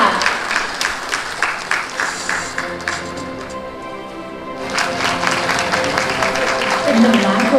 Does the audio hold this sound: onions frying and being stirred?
no